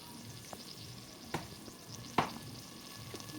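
Ingredients for Goan chana ross, including potatoes, fry in a pan with a steady sizzle, and a few sharp scrapes and clatters from the stirring spoon are heard close up.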